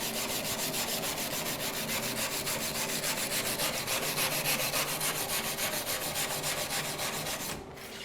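Steady scrubbing, rubbing metal along the side of a seam to clean it before TIG welding, a continuous abrasive rasp at an even rhythm that runs for several seconds and stops abruptly near the end.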